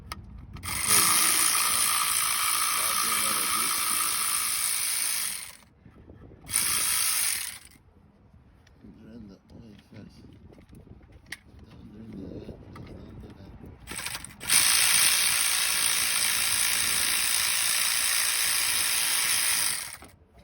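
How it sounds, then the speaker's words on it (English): A ratchet wrench loosens oil pan bolts on a 2009–2014 Nissan Murano, clicking rapidly and loudly up close in two long bursts and one short one, with quieter fumbling and a faint voice in the lulls between. "let me go ahead and take off the rest of the bolts"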